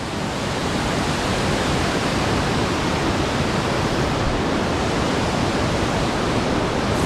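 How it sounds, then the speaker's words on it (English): A Himalayan river on a trek in Nepal rushes in a loud, steady broadband roar of churning whitewater that fills the whole stretch without a break, close by and unvarying. "Check out this river."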